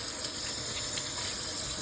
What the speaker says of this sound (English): let me rinse this salt out right here